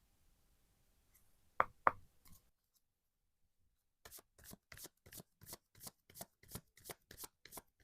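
Tarot cards being shuffled: a couple of sharp riffle snaps and soft handling early, then after a pause a fast regular run of about a dozen crisp card slaps, close and quiet.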